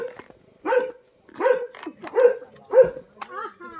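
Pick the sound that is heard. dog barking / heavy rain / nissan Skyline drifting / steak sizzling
dog barking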